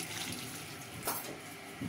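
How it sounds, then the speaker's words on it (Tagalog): Water running steadily into a pot of Filipino tinola chicken soup with lemongrass, a continuous close splashing pour filling the whole moment, with a brief louder slosh near the middle. "lagyan na rin po natin ng tubig."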